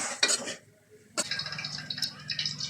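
Sausage masala stirred in a pan, a spoon scraping and clinking against the metal in two short bursts with a low sizzling underneath, close and moderately quiet.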